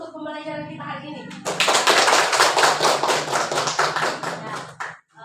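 Classroom applause for a lesson: a burst of many hands clapping starts after a teacher's voice and continues steadily for several seconds, loud and close, then stops abruptly.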